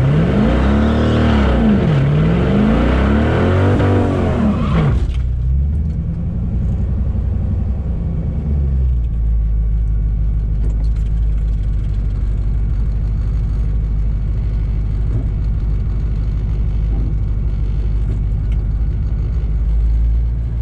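A drag race car making a pass at a race week event: a loud, close engine roar with rising revs for about five seconds, then a deep steady rumble that carries on and slowly fades over the remaining time.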